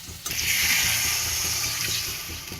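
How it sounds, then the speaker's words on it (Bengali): Water pours into a pot of new potato and tomato curry after the spices are cooked down, a continuous close splashing gush that starts abruptly and runs steadily, slightly fading toward the end. "কষানোর পর পানি দিয়ে দেওয়া হলো"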